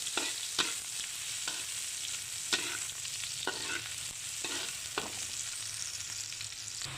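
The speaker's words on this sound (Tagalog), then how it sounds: "Igisa natin yung bamboo shoot." Bamboo shoots sauté in a hot pan under a steady sizzle, with periodic scraping clacks from a spatula stirring them, for a Filipino dish of bamboo shoots in coconut milk.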